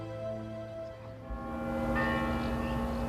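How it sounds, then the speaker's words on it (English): Church bells ring out in Girona, Spain, marking the proclamation of King Felipe VI, with several overlapping bell tones sounding clearly and swelling louder partway through, no voices present. "the bells you hear were signaling the proclamation of King Felipe VI of Spain in Madrid"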